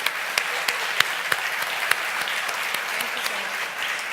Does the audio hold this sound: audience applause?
yes